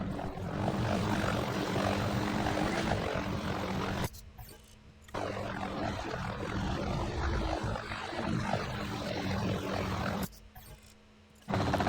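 A helicopter flying over a dinosaur park in the game Jurassic World Evolution, with a loud continuous rotor and engine drone that cuts out twice for brief near-silent gaps.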